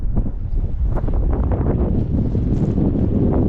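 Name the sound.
strong wind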